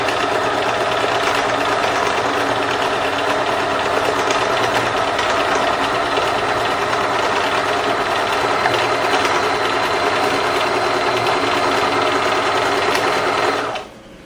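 Sewing machine stitching down a layered surface of lace, paper and cloth, a steady continuous whirring hum running loud and close for nearly the whole stretch, then cutting off abruptly at the end.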